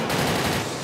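Rapid automatic gunfire in a GTA 5 LSPDFR police shootout, a dense continuous burst of shots filling the short moment with no talk over it.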